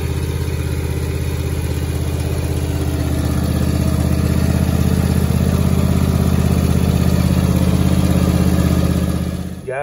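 A John Deere Z255 riding mower with a new carburetor runs on choke, its small engine chugging loud and steady close by for the whole stretch before cutting off abruptly at the end.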